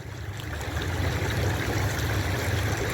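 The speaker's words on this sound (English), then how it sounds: "This is St. Helena Creek outside of Middletown." St. Helena Creek outside Middletown flows past close by, a steady, full rushing and gurgling of water over a rocky bed that holds at even loudness throughout with no voices.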